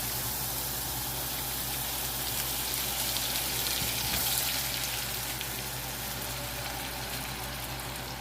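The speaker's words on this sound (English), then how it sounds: "now let's melt our butter" Two sticks of butter melting in a pan for a cherry crumble, giving a steady, soft sizzle and crackle that holds evenly throughout with no talking.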